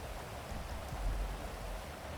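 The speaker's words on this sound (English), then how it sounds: "The rain is so loud." Steady, loud hiss of heavy rain in Grand Theft Auto, a dense wash of noise with no pauses and no voices.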